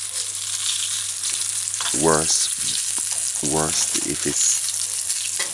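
A homemade fish patty fries in a pan on a stovetop set to medium-low, giving a constant close sizzle while a voice briefly speaks over it.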